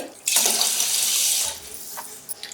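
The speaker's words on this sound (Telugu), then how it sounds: "ఇప్పుడు బియ్యాన్ని రెండు మూడు సార్లు నీట్గా వాష్ చేసుకుందాం" A short burst of water pours and swishes over rice in a bowl for about a second, then fades to quiet with a few small clinks.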